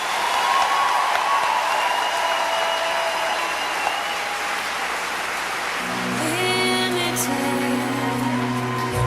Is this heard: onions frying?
no